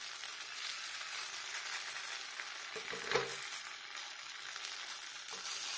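Banana slices fry in hot oil in a pan like fish, giving a steady soft sizzle throughout with a brief louder crackle midway, no voices.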